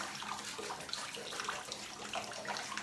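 Water pouring steadily in a bathtub to rinse shampoo off a dog, a continuous close splashing rush with no pauses and no talking.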